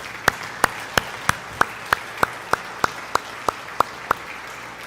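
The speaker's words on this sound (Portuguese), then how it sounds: "Você pode dar uma salva de palmas para Jesus?" In a church service, a congregation claps in slow, steady unison, about a dozen sharp, evenly spaced claps at a moderate pace, with no talk over them.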